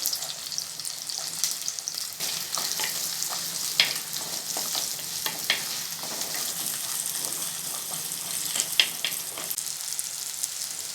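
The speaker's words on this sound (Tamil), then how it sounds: "எண்ணெயிலே வெங்காயத்தை நல்லா வதக்கியாச்சு" Small onions, garlic and curry leaves frying in oil for a garlic kuzhambu, a continuous close sizzle broken by scattered pops and spatters.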